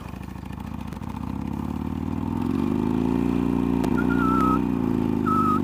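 A motorcycle engine idles and then revs up in a sustained, steady rising drone, close and moderately loud, with a brief higher whine near the end and no talking.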